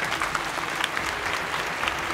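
An audience at a college event in Alappuzha claps steadily, a dense, even burst of many hands applauding at moderate loudness without pause.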